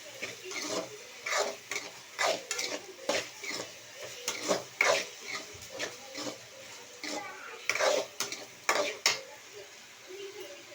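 Food being sautéed and stirred in a pan, with repeated utensil scrapes and clinks against the pan in an irregular rhythm over a faint sizzle, close and moderately loud, with no talking.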